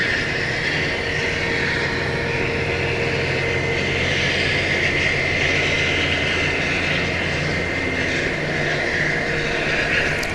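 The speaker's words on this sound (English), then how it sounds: "I see an E-Star jet on final approach." A jet airliner on final approach to Gimpo International Airport in Seoul gives a steady, broadband roar that holds evenly for the whole stretch with no voices.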